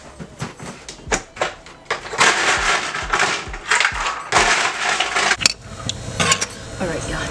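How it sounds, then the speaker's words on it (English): Ice cubes tumble into a cup at a workplace drink station, a series of loud clattering, crunching rattles in irregular bursts, close up, with background noise and faint talk behind. "Now I'm going to just fill it up with my ice."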